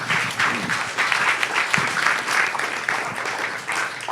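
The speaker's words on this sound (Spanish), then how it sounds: "Le damos un aplauso al Señor" Congregation at a church discipleship class applauds together, a steady dense wash of clapping lasting throughout, moderately near and loud with no talk over it.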